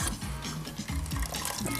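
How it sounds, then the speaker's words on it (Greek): Pasta is tipped into sauce in a pan, giving a close, wet, sloshing and sizzling sound that is continuous and fairly loud for about two seconds. "προσθέτουμε τα μακαρόνια μέσα"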